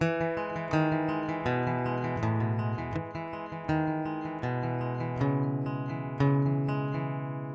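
An acoustic guitar riff played with a capo, bright, ringing plucked notes in a steady, repeating pattern, close and clear, without any voices.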